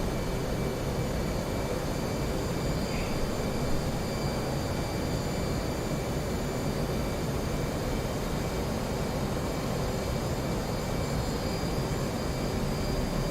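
An F/A-18 jet makes a flyby during carrier operations over the Persian Gulf in DCS World, a loud, steady jet roar that holds constant throughout with no voices.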